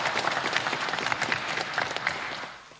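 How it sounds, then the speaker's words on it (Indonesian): Audience applause for a team at a provincial quiz competition, lively and close with distinct individual claps standing out, holding steady before fading toward the end. "Tepuk tangan dulu dong untuk regu B."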